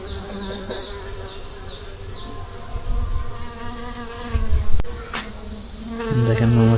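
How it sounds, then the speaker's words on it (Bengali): Honeybees buzz loudly and continuously around flowering lychee trees in an orchard, a dense droning hum from many insects close by, with a few individual bees passing near. "এই মৌমাছিগুলো নিয়ে আসছে, এই আমাদের এইদিকে একটা বাগানে বসাইছে"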